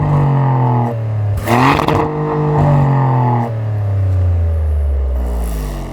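A Maserati GranTurismo Trofeo engine revs loudly on a canyon drive, rising and falling in several sweeps with a dense rumble and a brief burst of clatter and whir midway, heard alone.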